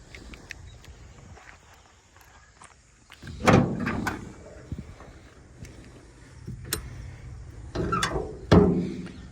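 Bonnet of a Maruti Alto car being opened up close: a few sharp metallic clunks and thuds with quiet shuffling between them, no talk.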